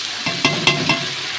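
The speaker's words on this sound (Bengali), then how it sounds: "এটা দিয়ে আমি কিন্তু বেশ কিছুক্ষণ ধরে ভালো করে কষিয়ে নেব।" Fish curry with pumpkin and potato and chilli paste being sautéed in a pan, with a steady soft sizzle broken by several scraping stirs of a spatula, close and moderately loud with no talking.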